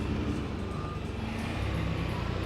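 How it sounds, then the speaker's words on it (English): A bus rolls past on a road, a low engine rumble and steady traffic noise close by, continuous throughout with no talking. "Oh, that's a funny coloured bus."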